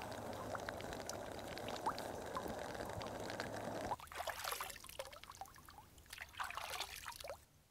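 Rainwater runs off a small well-house roof through gutters into barrels, a steady watery trickle and pour that shifts partway through to lighter, broken splashing and dribbles, close and moderately quiet with no talk.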